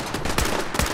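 Rapid gunfire crackles in Fallout 4 survival mode, a burst of several close, sharp shots in uneven rhythm filling the whole moment with no talking.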